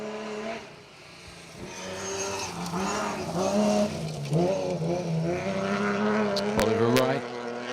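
A BMW straight-six rally car screams through the hills on a forest stage of a BTRDA championship rally in North Wales, engine note rising and falling as it revs loud and close, with commentary talk over it.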